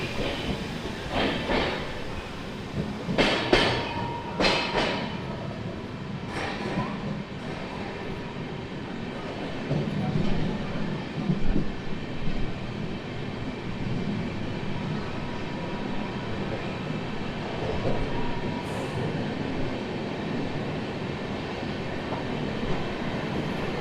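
A passenger train running from Hazrat Nizamuddin, Delhi, through Bhopal toward Kanyakumari rumbles steadily throughout, with rhythmic clickety-clack wheel beats and occasional sharper clanks near the start, heard from inside the carriage.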